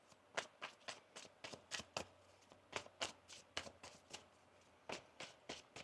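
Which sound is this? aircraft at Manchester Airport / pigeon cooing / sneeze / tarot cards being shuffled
tarot cards being shuffled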